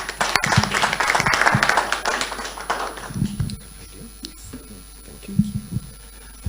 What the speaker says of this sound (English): please all clap and help me to introduce our DGSR